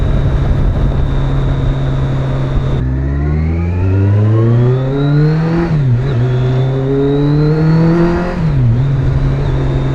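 Kawasaki Concours 14 motorcycle fitted with a Delkevic exhaust, baffle removed, idling loudly then revving up in two long rising pulls with a brief dip between, close and very loud.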